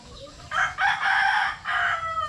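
A rooster crows loudly and close by, a full drawn-out call in several bursts with a faint background hum.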